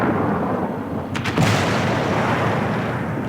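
A Löwe tank's cannon firing in a tank video game, one heavy booming shot with a rumbling tail sitting in dense, loud continuous game noise.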